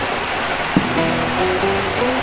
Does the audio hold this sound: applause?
no